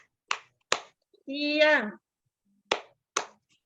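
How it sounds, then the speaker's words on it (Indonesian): A class claps hands in a few separate sharp claps, close and bright, with a child's short spoken word between them. "Tepuk tangan itu semuanya"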